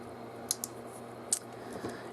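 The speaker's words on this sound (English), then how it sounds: "I'm just going to use my cutters." Jewelry cutters snipping at a wire hook on a rose and pearl Christmas ornament, making two quiet, crisp clicks close by, about a second apart, against a soft hiss with no voices.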